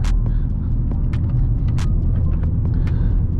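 Catless Dodge Challenger heard from inside while driving, with a steady deep exhaust drone and rumble at cruising revs, continuous and fairly loud, with faint clicks on top.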